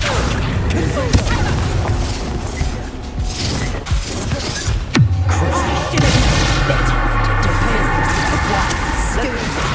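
A Bombarda explosion spell goes off during a wizard duel in Hogwarts Legacy on PS5. Heavy booming blasts and mechanical clatter fill the scene, dense and loud throughout, with voices mixed in.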